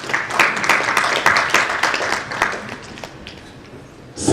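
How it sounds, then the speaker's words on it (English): Audience applause at a development partners meeting, a scattered patter of claps that starts fairly loud, thins out toward the end and picks up again briefly at the close. "I would recommend that we give a round of applause to everybody who is involved"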